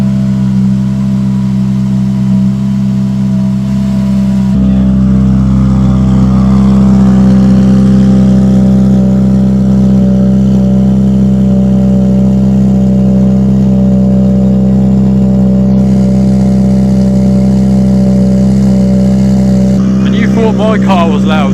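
Ford Fiesta R5 rally car engine, very loud and close, holding a steady droning rev with strong harmonic tone for about twenty seconds, the pitch shifting slightly as the throttle changes.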